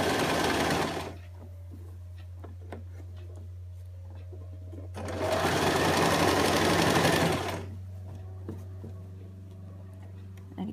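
A sewing machine stitches a ruffle skirt seam in two steady bursts, one short and one longer, with quiet pauses between them and a constant low motor hum underneath.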